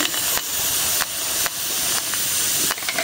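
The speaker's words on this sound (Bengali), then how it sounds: "এখন দিয়ে দিলাম পেঁয়াজ" Onions hit a dry, oil-free pan for a shutki and kalojira bharta and hiss steadily and loudly, with sharp crackling bursts recurring every half second or so.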